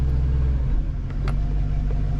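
A 1974 Ford Maverick engine idles steadily, a low, smooth rumble holding close and even throughout with no revving.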